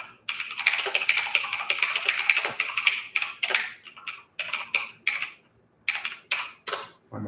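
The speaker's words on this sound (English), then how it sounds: "Why am I typing?" Rapid keystrokes clatter on a computer keyboard close by, coming in dense bursts with short pauses between them, crisp and clicky, with no voices.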